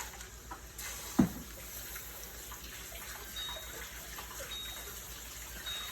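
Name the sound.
tap water running, rinsing tomatoes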